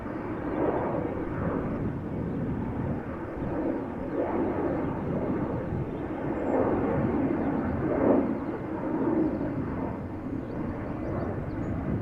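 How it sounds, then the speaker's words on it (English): An Embraer 190 airliner roars steadily down the runway on its takeoff run at Amsterdam Schiphol Airport, a broad, continuous engine rumble heard from a moderate distance that swells slightly toward the end. "we are waiting for the next airplane to take off from this runway. It is going to be an Embraer 190"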